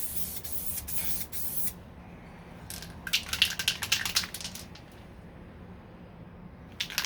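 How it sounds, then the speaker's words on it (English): Sandable primer hisses from an aerosol spray can onto the door of a 1969 Corvette C3, with a long burst, a pause, then several short choppy bursts and a final brief spritz, close and fairly loud. "after I sprayed across it"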